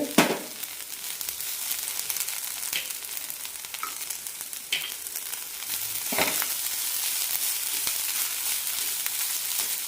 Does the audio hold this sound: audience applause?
no